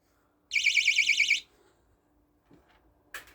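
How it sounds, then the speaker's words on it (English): An electronic alarm beeps from a taxidermy anatomy toy in a rapid, shrill warbling burst lasting about a second, followed by quiet handling noises and a faint click. "So obviously if the head is on the wrong way, an alarm goes off."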